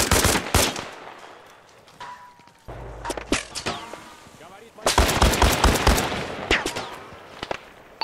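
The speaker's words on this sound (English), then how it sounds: "This Spaz 12 is insane." Rapid bursts of Spaz 12 shotgun fire during an Arma Reforger match, loud sharp blasts in irregular clusters with a quieter stretch midway, mixed with other battlefield gunfire.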